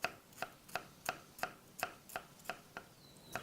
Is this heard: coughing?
no